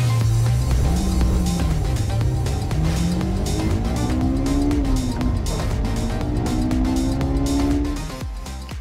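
A 2025 Hyundai Ioniq 5 N electric hot hatch driven on a race track, tires squealing through corners with a steady synthetic drive tone that rises and dips, loud and continuous before fading at the end.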